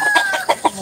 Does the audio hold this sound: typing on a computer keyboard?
no